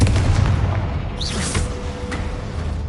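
A Confringo blasting spell from the Hogwarts Legacy video game detonates with a loud, booming explosion, set against a constant roar of rumbling game noise and effects, with no voices present.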